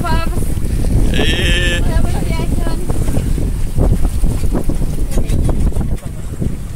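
Wind rushes and buffets across the microphone aboard a sailboat moving under sail alone at about four knots. Boat and water noise run underneath, with people talking.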